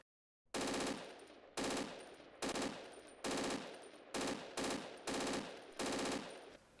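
Several loud, short bursts of automatic M16 gunfire in the video game Project Reality, separated by brief pauses, each burst sharp and ringing with a slight echo tail.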